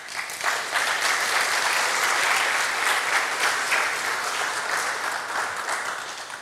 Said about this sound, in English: So let's give an applause for them.